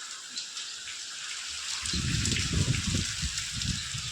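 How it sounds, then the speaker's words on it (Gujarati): Rain falls in a steady, dense hiss that grows heavier and rougher after the first couple of seconds, with no one speaking. "ત્યાં વરસાદ શરૂ થઈ ગયો"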